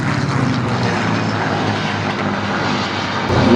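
A vintage warbird's piston engine roars at the Flying Legends airshow in 2015, a loud continuous drone with no talk.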